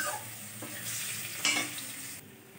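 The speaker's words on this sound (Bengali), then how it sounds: "আমার আলুগুলো ভাজা হয়ে গেছে লাল লাল করে।" Potatoes frying in oil in a home kitchen pan, a steady soft sizzle with brief scraping stir sounds, close and fairly quiet with no voices.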